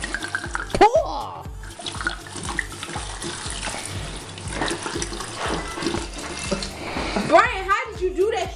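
A whole bottle of liquor glugs and splashes as it is poured into a big batch of jungle juice with blueberries, a steady liquid rush under nearby talk and laughter.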